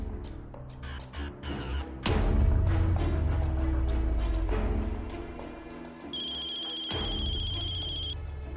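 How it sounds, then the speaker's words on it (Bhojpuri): A telephone ringtone in a home, an electronic ringing tone that comes in during the last few seconds as repeated bright pulses, after a stretch of louder household sounds. "वो फोन बज रहल बा"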